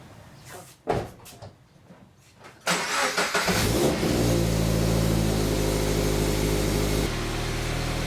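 A car's engine starts and settles into a loud, steady running drone with some revving while the car backs up during an FRS build with red TE37 wheels; a few quiet knocks come first.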